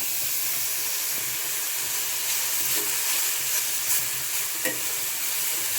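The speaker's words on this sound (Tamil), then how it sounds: "குழம்பு நல்லா கொதிக்க ஆரம்பிச்சிருச்சு." Tamarind puli kuzhambu with okra simmers and sizzles in a pan, giving a steady close hiss of bubbling and frying with a few faint stirring clinks, no voices over it.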